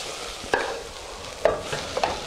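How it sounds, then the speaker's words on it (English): Onions browning in a pan for French onion soup with white wine crackle and sizzle steadily, while a utensil scrapes and stirs through them three times. Nobody talks. "Onions are starting to brown nicely."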